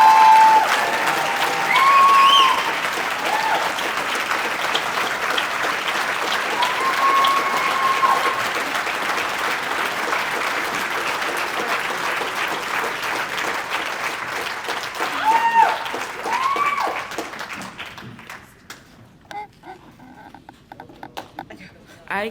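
Audience of about 250 people applauding to welcome two speakers to the stage at an Everett Recovery Café event, loud sustained clapping with scattered cheers and voices that fades out near the end.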